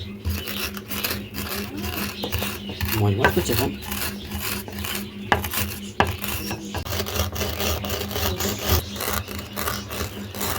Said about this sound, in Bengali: এটা বেলুন দিয়ে গুঁড়িয়ে নেবো